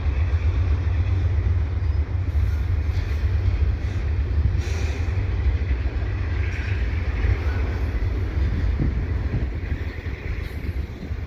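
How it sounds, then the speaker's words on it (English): A heavy CPKC double-stack intermodal freight train rumbles past up close at Dorval, a steady low roar of rolling wagons with faint metallic clatter throughout, no voices. "double stack train"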